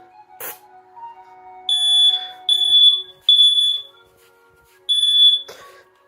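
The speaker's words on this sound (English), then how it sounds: "time to test this crappy USA smoke detector" A USA smoke detector under test sounds four loud, piercing high-pitched beeps in an uneven rhythm, with short gaps between the first three and a longer pause before the last, plus a couple of sharp clicks.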